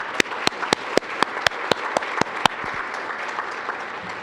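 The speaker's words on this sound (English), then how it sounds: "Let's give them a round of applause, please." A luncheon audience applauds in a quick, rhythmic round of clapping with sharp regular claps standing out early before settling into a steadier crowd patter.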